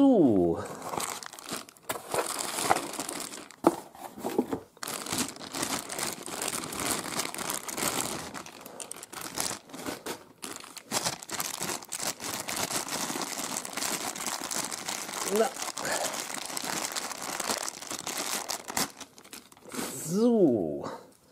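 Plastic and cardboard packaging crinkle and tear as a Phantomirage Phantomi Wristy toy is unpacked, with loud close rustling throughout and someone talking over it at times.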